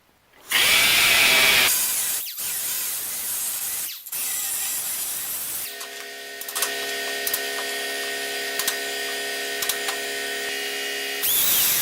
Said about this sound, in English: take my cutoff wheel and weaken the rest of the weld